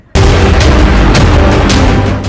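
A rocket blast during a Hezbollah attack on Haifa, a sudden loud boom that starts abruptly after brief quiet and then rumbles on heavily for about two seconds.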